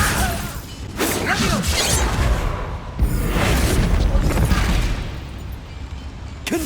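A Bombarda blasting spell goes off in Hogwarts Legacy, a loud booming blast with crashing debris that rumbles on for several seconds, followed by a second heavy impact, with faint game voices underneath.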